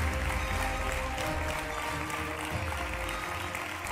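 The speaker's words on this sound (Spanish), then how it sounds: "Un aplauso" Sustained, dense applause from an audience at an awards gala, loud and steady throughout with no pauses.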